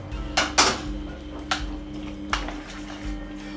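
A spoon mixes chicken shawarma marinade with olive oil and garlic-ginger paste in a bowl, giving a few sharp clinks against the bowl and soft wet squishing in between, close and fairly quiet.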